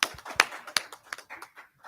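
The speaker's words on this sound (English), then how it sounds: "Yes, please do applause." Small indoor audience at a conference panel claps briefly and lightly for an organizer, a sparse patter of hand claps with a few louder ones, faint and short.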